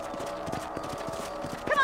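Galloping horse hooves in the video game Red Dead Redemption: a quick, regular clip-clop rhythm, moderately close, running the whole short moment over a steady game ambience.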